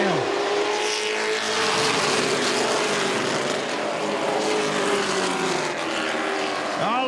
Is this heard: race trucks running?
yes